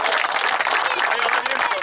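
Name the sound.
applause for the champion beach football team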